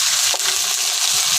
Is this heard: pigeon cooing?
no